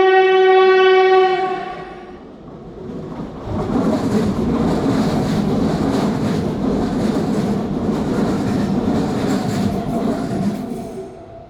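A loud horn blares, then the Matheran toy train rumbles and clatters steadily along the narrow-gauge tracks, rolling away with a rhythmic rattle of wheels.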